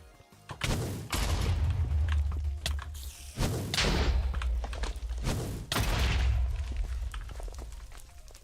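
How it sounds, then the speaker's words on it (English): Fireballs from the fire form in Minecraft launch and hit in a series of heavy booming thuds, about five loud close impacts each followed by a rumbling tail, with no talking over them. "This is what I like about the fireballs."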